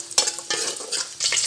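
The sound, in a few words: cashews and raisins frying in oil for mutton biryani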